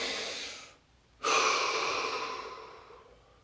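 A deep breath drawn in and let out during a guided relaxation exercise, heard as a soft airy inhale, a short pause, then a longer fading exhale, close and quiet with no talking.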